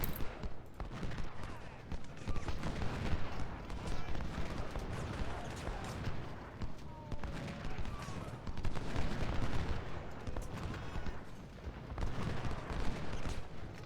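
Musket volleys and artillery fire from a First Bull Run battle in the video game Ultimate General: Civil War, a continuous crackling barrage of overlapping shots with heavier booms, dense and sustained throughout.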